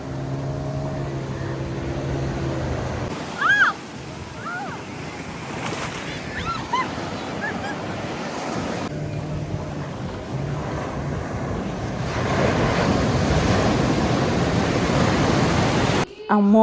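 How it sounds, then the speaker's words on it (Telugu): Big sea waves surge onto a beach in Goa, a broad roaring wash that grows louder and fuller toward the end, mixed with wind buffeting the microphone and a few brief background voices. "బీచ్ కి చాలా దగ్గరలో పెద్ద అలలు వస్తున్నాయి."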